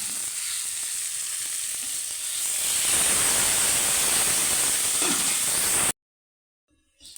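Poa fish sizzle and crackle loudly in a frying pan, a steady hiss that swells midway, then cuts out abruptly before a brief faint clatter at the end.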